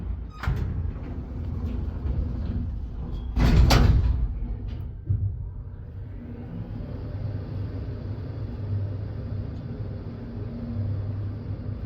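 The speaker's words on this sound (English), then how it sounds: "Let's close the door." Door of an old Otis F2000 traction elevator in a Lahti, Finland apartment building sliding shut with a clunk and thud, then a steady hum of the car and machinery, no talk.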